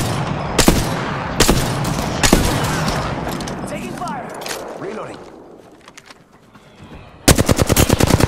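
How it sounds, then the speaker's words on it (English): Incoming gunfire in the battle royale game Apex Legends arrives as loud single shots and short bursts, fading into a quieter stretch of game noise, then a sharp rapid automatic volley at the end, with voices mixed in. "Taking fire!"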